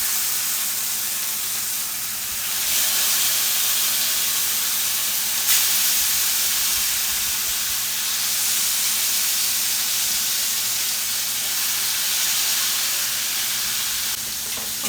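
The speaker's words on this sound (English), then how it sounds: "Now what we're going to do is we're going to sear up each of our pork chops." Pork chops searing in a hot cast iron skillet give a steady broad hiss and sizzle that holds at even strength the whole way through, with no voices.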